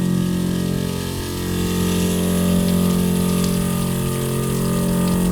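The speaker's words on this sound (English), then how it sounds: "you're flushing the rust out of the engine in the heater core and everywhere else" Water flushes rust out of a Toyota Tacoma truck engine and heater core, a steady gushing rush over a droning pump-like hum that dips briefly and then holds strong and close.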